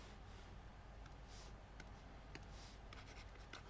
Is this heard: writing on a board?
yes